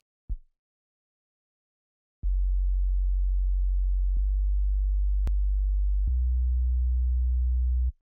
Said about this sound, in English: I added this sub bass as well, which is just a simple sub